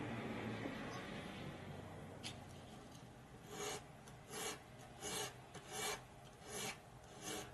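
A hand file rounds off the blade tip edge of a Cold Steel Frenzy III folding knife, first as continuous scraping, then as about six distinct rasping strokes at an even rhythm, close and fairly quiet.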